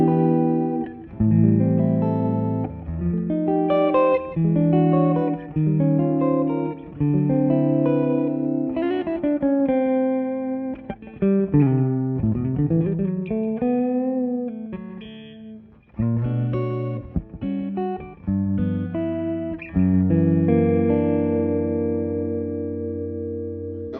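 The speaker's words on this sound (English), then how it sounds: "just so you can hear what it sounds like with reverb and little overdrive" Electric guitar plays a melodic line of notes and chords with overdrive grit and a wash of reverb, continuous and fairly loud.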